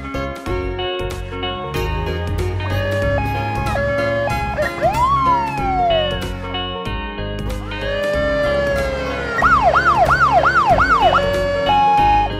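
A loud police siren wails and then switches to a fast yelping pattern, close and continuous with no talking.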